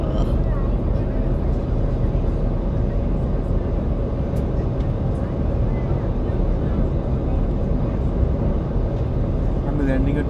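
Steady, loud broadband roar of a passenger airliner descending to land at Kuala Lumpur International Airport, heard continuously from inside the cabin with no break in the engine and airflow noise.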